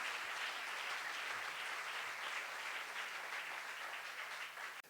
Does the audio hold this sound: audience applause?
yes